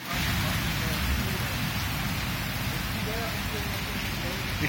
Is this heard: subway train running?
no